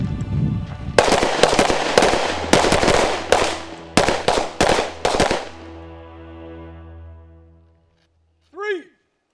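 Pistol shots ring out at a target during instinctive shooting practice, coming in rapid clusters of sharp cracks over several seconds and then fading into a lingering echo, with a short chirp near the end.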